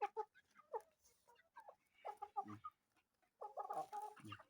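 Brahma chickens and a rooster cluck nearby in short, uneven bursts, with several birds calling over one another toward the end.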